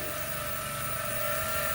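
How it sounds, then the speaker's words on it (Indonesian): Propellers of an ES800 Pro drone spinning steadily indoors, a continuous high whine with a strong sustained tone and broad airy hiss, fairly quiet and unbroken throughout. "Suaranya ini menurut saya yang menarik di ES800 ya, termasuk agak sedikit nggak berisik lah ya"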